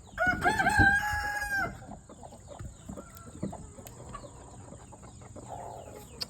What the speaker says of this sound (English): Yep, all 4 hens are broody again.